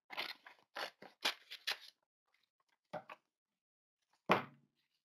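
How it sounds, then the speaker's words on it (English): Scissors cut paper for a collage journal in a string of close, crisp snips, a quick run of five or six followed by a gap, then two more isolated cuts against a quiet background. "So I'm going to cut this out just to see if it would real quick."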